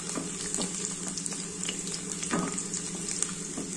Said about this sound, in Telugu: ఇప్పుడు ఇది పోపు వేస్తున్నాను